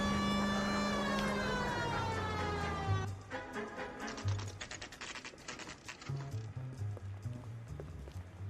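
A police car siren from the video game L.A. Noire wails in rising and falling sweeps for about three seconds, then gives way to clattering impacts and scattered mechanical noises.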